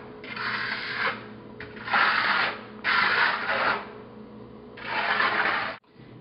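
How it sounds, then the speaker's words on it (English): Trowel dragging plaster texture across a wall in four long scraping passes, each one to two seconds long with short pauses between them, close and fairly loud. "You're using a very delicate touch on your trowel as well."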